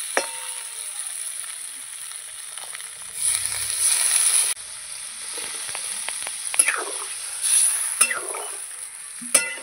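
Water poured into a pan of spices and vegetables frying for a live tilapia and green banana curry. The sizzle swells for about a second, then comes a steady hiss with light stirring clinks and no talk.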